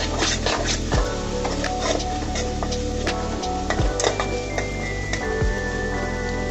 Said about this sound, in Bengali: দিয়ে মশলাটাকে সুন্দর করে আমি কষিয়ে নিব।